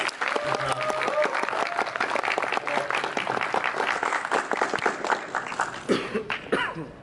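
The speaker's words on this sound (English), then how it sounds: "So give us a round of applause" A convention panel audience breaks into sustained applause, dense and fairly loud, with a few coughs and scattered voices mixed in before it tapers off.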